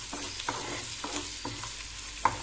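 Shallots, garlic and salt being stirred in a pan, a low sizzle broken by repeated scraping strokes of a spoon at an even rhythm, with one sharper clink near the end.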